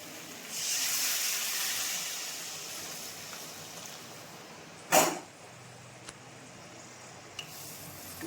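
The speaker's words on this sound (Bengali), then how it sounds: "এবার আমি গরম জলটা দিয়ে দেবো" Hot water poured into frying chicken curry with taro sends up a loud hiss of steam that fades over a few seconds, followed by a sharp clank and a couple of faint knocks.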